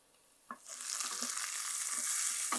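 Onions fried to golden brown in a pan, with tomatoes just added, start to sizzle loudly after a sharp clatter, a steady broadband frying hiss continuing with a few soft knocks and no talk.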